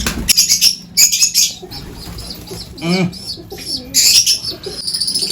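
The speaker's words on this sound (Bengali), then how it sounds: "এই যে ছেড়ে দেবো, হালকা ডানা হয়েছে, উড়ছে আস্তে আস্তে" A young pigeon released by hand, its wings flapping in several quick bursts close by, with soft cooing from other pigeons in between and a brief voice in the background.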